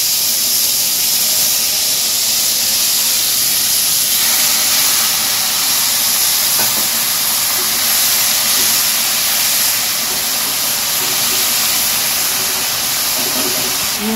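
Pieces of bottle gourd sizzle loudly in hot oil with bay leaf, dried red chilli and five-spice seeds, a steady close hissing spatter that continues throughout.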